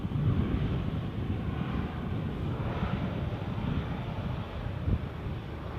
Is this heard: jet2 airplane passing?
yes